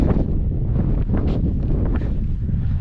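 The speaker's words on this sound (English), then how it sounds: "the wind's starting to slow down a little bit" Wind buffeting the microphone at a public-land camping spot near sand dunes, a continuous low roar and rumble with gusty swells, loud and close, no voices.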